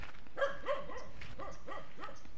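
A dog barks a few times in quick succession, sharp yelps at moderate distance over low background noise.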